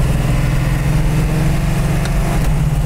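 A 1970 Plymouth Sport Satellite engine drones loudly and steadily from inside the car while driving in second gear at about 3,000 RPM, with a deep, even rumble.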